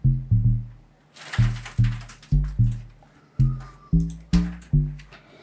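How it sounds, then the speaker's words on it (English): An amapiano log drum pattern in FL Studio plays alone: deep, punchy pitched hits with a short tail in a syncopated rhythm, about a dozen strikes, some in quick pairs, with brighter percussive clicks layered over the later hits. "We have this log drum that comes in."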